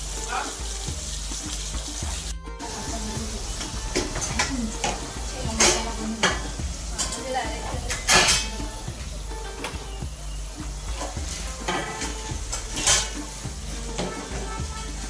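Surmai (kingfish) fish frying in a pan at Mauli Cottage, Alibag, a steady close sizzle with occasional sharper spatula clinks and scrapes throughout, no talking.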